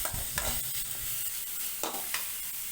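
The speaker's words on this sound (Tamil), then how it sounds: "நம்ம இந்த வெங்காயத்தை வந்து நல்லா வதக்கிடணும்." Onions stirred and sautéed in a pan while cooking a vegetable poriyal, with a steady sizzle of frying and scraping stirs throughout, close and alone.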